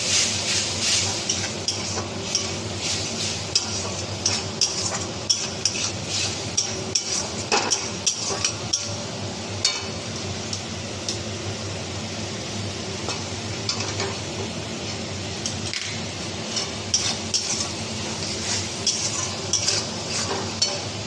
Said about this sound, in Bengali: এই সর্ষে বাটা বাটির মধ্যে একটু লেগেছিলো, সেটাকে একটু জল দিয়ে দিলাম, একটু কষে নিই।